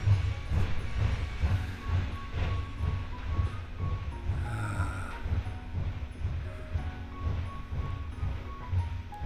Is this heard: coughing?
no